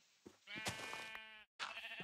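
Sheep in Minecraft bleat with a nasal wavering cry, two bleats in quick succession, the first drawn out and the second cut short, clear and close.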